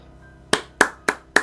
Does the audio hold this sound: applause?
yes